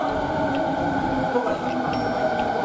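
Rinkai Line train bound for Tokyo Teleport pulling into a station, a steady loud rumble of wheels and motors with faint higher squeals, continuous throughout.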